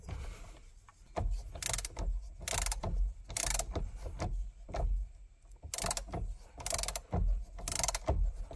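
A ratchet with a 12 mm triple square bit loosens the steering wheel bolt on a Porsche Cayman 987 or 911 997, making repeated bursts of rapid clicking separated by short pauses, close and fairly loud.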